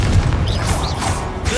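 Confringo blasting spell going off in the Hogwarts Legacy video game, a loud booming crash with crackling debris, dense and close throughout the short burst with some whooshing magic effects layered on top.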